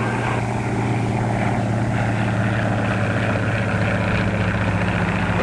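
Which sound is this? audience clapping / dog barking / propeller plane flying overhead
propeller plane flying overhead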